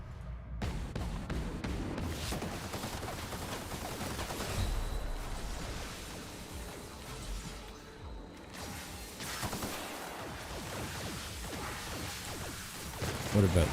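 Gunfire with electric ammo in The Outer Worlds video game, a dense stretch of rapid shots, crashes and impacts amid combat noise, loud and sustained with brief lulls.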